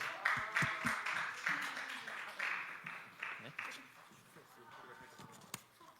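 Scattered hand clapping from a church congregation during a Sunday worship service, uneven and moderately near, mixed with a voice talking over it.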